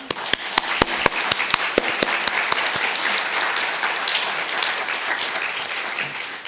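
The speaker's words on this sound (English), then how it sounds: "Please join me in a round of applause to thank each of these individuals for the commitment and support." A symposium audience gives a round of applause, with a few sharp nearby claps over steady crowd clapping that carries on throughout.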